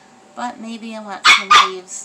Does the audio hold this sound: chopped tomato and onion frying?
no